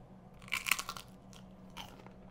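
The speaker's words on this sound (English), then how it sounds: "listen to this crunch" Baked, golden-brown pasta chips loaded with a cheesy pizza dip give a few sharp, close crunches as they are bitten, followed by quieter chewing, with no talking.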